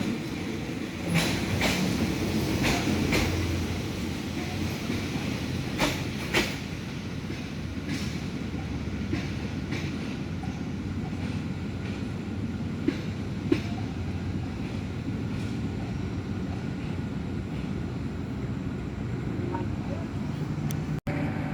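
A Sprinter express train, no. 998, approaches at a Bangkok station with a low, continuous rumble and scattered clanks over a long steady stretch, while someone talks throughout.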